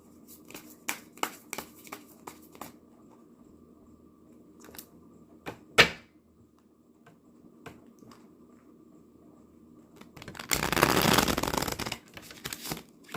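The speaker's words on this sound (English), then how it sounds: "Let me shuffle my cards good. These are new." A new deck of tarot cards is handled with scattered light taps and flicks, then shuffled in one dense, papery riffle burst near the end, close and fairly loud.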